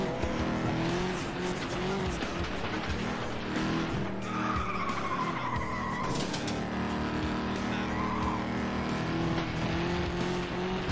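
Race car engines roar continuously in the FlatOut 2 video game, with tires squealing in drawn-out skids during erratic, sporadic driving, the loud motor drone steady throughout.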